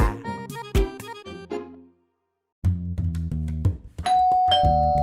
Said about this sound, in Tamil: டேய் ஏன்டா பெல் அடிக்கிற